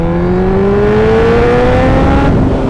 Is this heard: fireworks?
no